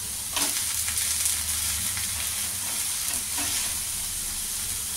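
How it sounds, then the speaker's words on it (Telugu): A millet uttapam fries on a hot pan after being flipped, giving an even, close sizzle with a low hum underneath and a couple of faint scraping touches near the start. "ఇప్పుడు ఇవి కింది సైడు బాగా ఫ్రై అయినాయి."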